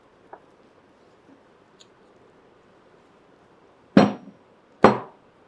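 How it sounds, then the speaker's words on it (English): An automotive gearbox main shaft is removed, giving a few faint taps early on, then two loud, sharp metallic clanks a second apart as steel parts knock together, close by with no talking. "Just I remove the entire main shaft."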